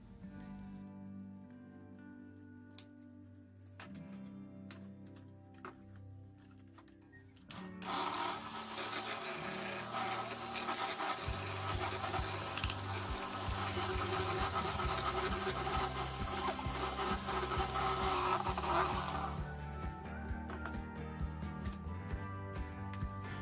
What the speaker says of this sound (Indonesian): Selanjutnya di sini akan aku mixer untuk telur, gula pasir serta SP hingga putih kental